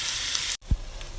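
Blended onion and coconut gravy fries in a pan with a loud, close sizzle that cuts out abruptly, followed by a low thump and a quieter resumed frying.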